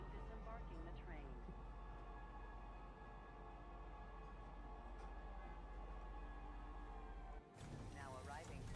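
A metro train in a space video game pulls into a spaceport station, a steady loud rumble and mechanical drone that breaks into a sharp shift of sound near the end.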